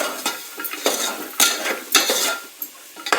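Peas and potatoes being stirred and sautéed for masala khichdi in a metal pan, with repeated scraping clinks of a spoon against the pan and a light sizzle, close and clear with no talk.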